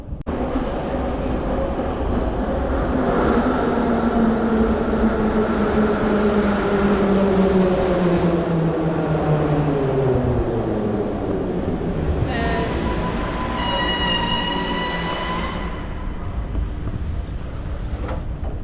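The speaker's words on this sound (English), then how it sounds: "the train is coming" A train pulls into a station in Kyiv, Ukraine, with a loud, steady rumble of wheels and carriages close by, its tone sliding downward as it slows, then a string of high squealing brake tones near the end.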